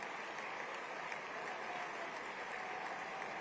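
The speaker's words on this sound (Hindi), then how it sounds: "भाई जोर से ताली बजाइए जरा पूरा सदन।" Faint, distant applause from members in a legislative assembly hall, a steady low wash of clapping heard far off and quiet throughout.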